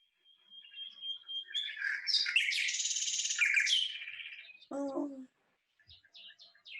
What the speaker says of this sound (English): that is a nightingale